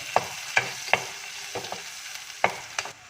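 Ginger, garlic, cinnamon and green chilies are sautéed in a pan for a Kerala chicken curry, with a faint sizzle beneath sharp, intermittent scrapes of a spoon stirring the mixture.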